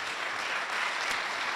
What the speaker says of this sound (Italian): che applauso moscio ragazzi